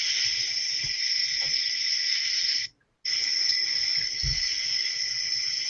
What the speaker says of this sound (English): Oh, that's supposed to be crickets.